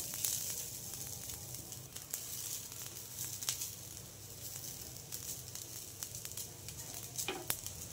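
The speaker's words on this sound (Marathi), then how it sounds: "आता आपण कांदा काढून याच्यावर आता खोबरं भाजायला टाकूया।" Grated fresh wet coconut roasting in a pan after onions, a soft steady sizzle with faint stirring scrapes and occasional clicks, quiet and continuous throughout.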